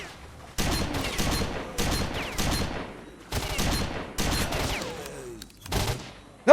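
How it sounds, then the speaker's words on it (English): Enemy shotgun blasts in S.T.A.L.K.E.R. Shadow of Chernobyl, a series of heavy booming shots spaced about a second apart, each followed by a decaying echo, loud and fairly close. "sounds like that guy's got a shotgun of his own"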